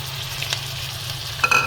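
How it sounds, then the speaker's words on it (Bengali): A paste of ginger, garlic, onion, cumin, tomato and green chilli fries in a pan with a steady, close sizzle. Near the end come a couple of louder stirring scrapes and spatters. "এখন আমি এগুলো ভালো করে একটু ভাজা ভাজা করে নেব"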